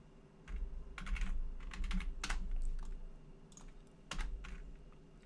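Computer keyboard typing while coding a React website, quiet rapid clusters of keystrokes in uneven bursts with short pauses, close and clicky against a faint low hum.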